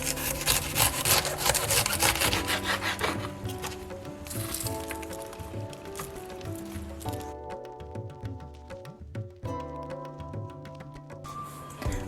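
Knife shredding cabbage on a wooden board: steady, close rasping and scraping strokes in a continuous rhythm, with some tonal kitchen background underneath and no voices.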